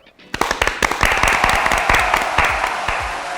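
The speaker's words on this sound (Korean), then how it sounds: "우선 박수부터 칠까요?" Applause from a small studio group at the opening of a Korean cosmetic surgery clinic broadcast, sharp close claps starting after a brief pause and settling into steady clapping for about three seconds.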